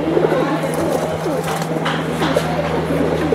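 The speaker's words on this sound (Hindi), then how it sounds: "ये कबूतर जो बैठा है ना सामने इसे लकवा आ गया है" Soft, low coos from a paralysed pigeon repeat against a steady hum, with a person talking over them nearby.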